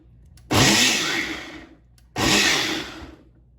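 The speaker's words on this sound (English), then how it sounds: "I'm gonna give them a quick pulse in the immersion blender just to break them down a little bit more" Two short pulses of an immersion blender breaking down diced tomatoes, each a loud, close whir lasting over a second, with a brief pause between them.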